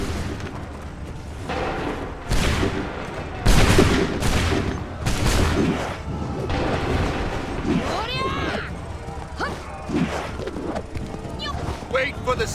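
Musket volleys in Assassin's Creed 3 Remastered, with several loud ragged bursts of massed gunfire, each ringing out and then fading, under shouted commands and the clamor of battle.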